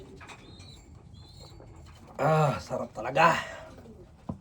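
Pet birds coo softly in the background while a person speaks briefly nearby.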